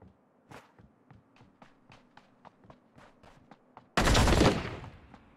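Gunfire in a video game aimed at the player: a rapid, evenly spaced series of fairly quiet shots, then a sudden loud burst that swells and slowly fades toward the end.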